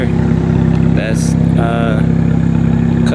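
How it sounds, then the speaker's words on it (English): A BMW 335i with catless downpipes and a custom exhaust, formerly straight-piped, idles with a steady low rumble throughout, loud and close, with brief higher tones layered over it. "custom exhaust"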